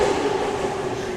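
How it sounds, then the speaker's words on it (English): Steady rumble of a Tokyo commuter train in motion, a continuous, fairly loud drone heard from on board, with no talking. "So come along with us as we board the train and head off to the station."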